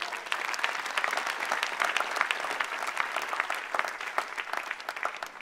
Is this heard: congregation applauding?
yes